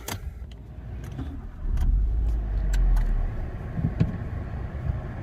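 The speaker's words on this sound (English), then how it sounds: "start the car" A car engine cranks and catches around the two-second mark, settling into a steady low idle close by, with a few faint clicks and interior knocks while the driver prepares to pull away.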